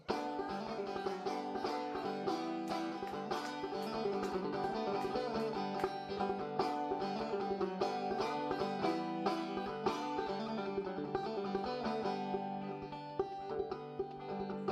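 A plucked banjo plays the tune "Monongahela Rye", bright and busy with quick repeated picking, loud and continuous, alone without any talking.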